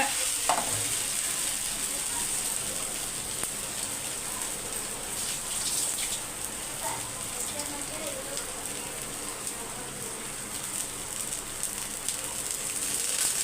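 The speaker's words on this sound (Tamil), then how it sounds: "உருளைக்கிழங்கு சூப்பராக ஃப்ரை ஆகிடுச்சு எடுத்துடலாம்" Potatoes fry crispy in a pan with steady, loud oil sizzle and crackle that continues unbroken throughout, with occasional faint clinks and no voice clearly audible.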